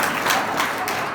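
Audience applause at a scouts gathering with comedy and speeches, a steady wash of clapping holding at an even level for about a second with no voices over it.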